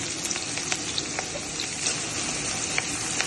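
Green chillies and onions frying in hot oil with cumin, a steady close sizzle with occasional crackles and spatter pops, no voices.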